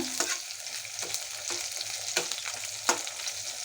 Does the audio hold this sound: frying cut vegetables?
yes